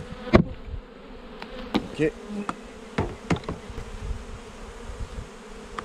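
Honey bees swarm and buzz around an opened hive during a spring inspection, a dense continuous drone broken by sharp knocks and clicks of frame handling nearby, with one brief spoken word.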